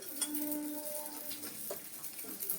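Vermicelli with an equal amount of sugar and batasa frying in a pan until reddish, giving a soft continuous sizzle with a few light scraping stirs, fairly quiet and steady.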